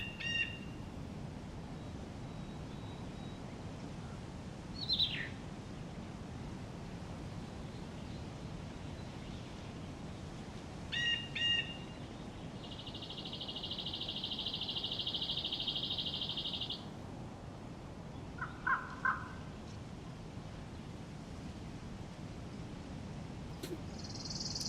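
Birds call from a tree in the survival game DayZ, sparse short chirps and squawks spaced several seconds apart over steady outdoor wind hiss, with one longer sustained call near the middle.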